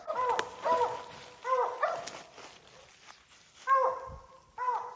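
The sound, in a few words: hunting dogs barking at treed bear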